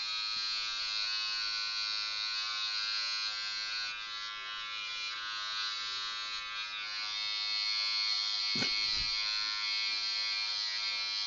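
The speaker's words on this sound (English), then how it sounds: "Shaving your forehead?" Electric razor buzzing steadily as it shaves a forehead, a close, bright continuous hum with a brief knock or bump near the end, no talk.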